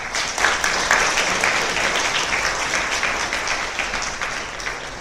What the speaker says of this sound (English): And really big round of applause